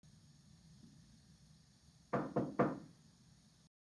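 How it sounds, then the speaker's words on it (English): Knocking on a door, three quick, firm raps close by after a stretch of quiet room tone. "I'll do the same for a door knock."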